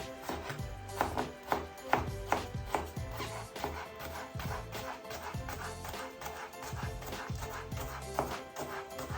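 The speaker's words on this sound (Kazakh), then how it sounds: "Бассейнімізді осылай турап аламыз." A knife chopping thick cabbage leaves on a wooden board, a steady run of sharp repeated taps and thuds close by, with no voices over it.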